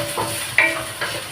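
Chicken creamy pasta stirred in a pan, a few soft scraping strokes of a spoon against the pan over a faint sizzle, close and fairly quiet, with no talking.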